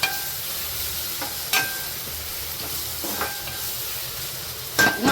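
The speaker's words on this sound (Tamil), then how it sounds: "நல்லா வதக்கி எடுக்கணும்." Ground masala for mutton chukka sizzles and hisses as it is sautéed in a pan, with periodic scraping strokes of a spatula, close-up and continuous without speech.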